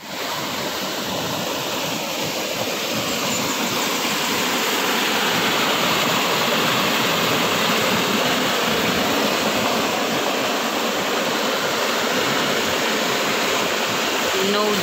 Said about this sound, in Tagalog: Ayan, dito umaagos yung tubig